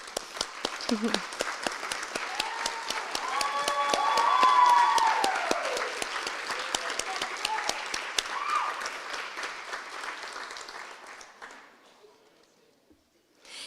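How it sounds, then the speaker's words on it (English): Audience at a university spring symposium gives sustained applause for standing faculty, swelling in the middle and tapering to quiet near the end, with a voice and an electronic tone heard faintly early on. "let's give them applause"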